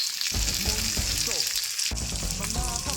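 Liver is browning in a frying pan with sliced onions added. A close, continuous sizzle carries stirring noises and bursts of spitting oil throughout.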